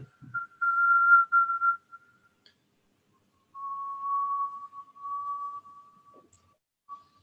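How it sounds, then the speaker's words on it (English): A person exhales through the mouth with a whistle during a breathing exercise, two long thin airy whistled tones, each wavering slightly, separated by a few seconds of silence, close and fairly clear. "exhaling, whistling through the mouth"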